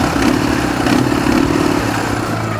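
Ural motorcycle engine running just after starting, a loud near idle with an even, fast chugging pulse that stays steady, no voices over it.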